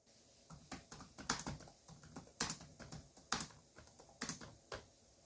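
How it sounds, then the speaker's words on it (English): Keys clack on an HP 15.6-inch laptop keyboard in a quick, uneven burst of close, crisp taps, heard alone in a quiet room without any talking. "Here's a little keyboard sound demonstration"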